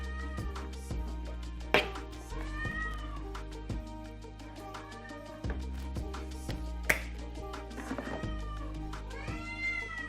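A hungry cat meows repeatedly indoors, drawn-out cries coming one after another at close range, with scattered clicks and taps in between.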